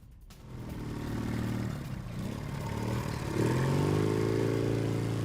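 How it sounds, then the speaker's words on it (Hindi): Motorcycles roll past in a bike parade held with a military band, a rising mix of engine drone and revving that builds louder toward the end, with a low rumbling backdrop. "सैनिकों की बैंड के साथ टीटीपी की बाइक परेड निकाली जा रही है"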